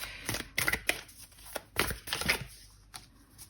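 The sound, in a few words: shuffling oracle cards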